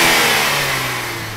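A 2013 Ford ST with a 2.0-liter turbocharged engine revs loudly and close by, its strained engine note holding briefly and then easing off as it winds down, with no talking.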